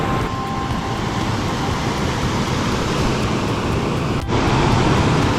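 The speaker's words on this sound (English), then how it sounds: "So this is the waterfall." A waterfall in the Brecon Beacons, heard from the top of the falls, makes a constant loud broadband rushing roar with some wind buffeting on the microphone and no speech.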